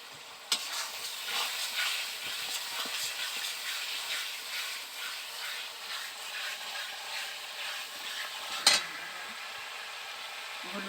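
White cooking oil heats in a pan for a country chicken curry, giving off a steady, soft sizzle and hiss broken by a couple of sharp clicks, with no talk.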